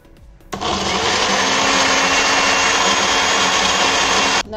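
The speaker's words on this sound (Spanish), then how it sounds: "Y ahora lo licuamos." A blender blending seasonings for meatballs in tomato sauce starts up after a brief pause and runs steadily at a loud, constant whirring roar for about four seconds before cutting off.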